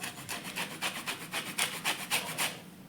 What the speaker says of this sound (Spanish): vamos a rallar la piel de la naranja y del limón